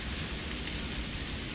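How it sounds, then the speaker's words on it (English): Heavy rain pours down in TerraFirmaCraft, a Minecraft mod, as a steady, dense wash of hiss that stays even and unbroken throughout, with no voice over it. "he says as the rain starts to pour down"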